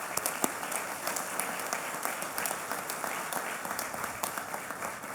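Applause rises from an audience at an outdoor groundbreaking ceremony for an electric vehicle battery factory, many hands clapping in a dense, even patter with a few sharper claps standing out nearby.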